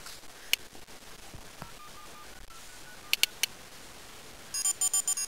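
Outgoing call placed on an iPod Touch, with faint dial-tone beeps followed by a repeating ringback tone pulsing in short regular bursts near the end, no talking.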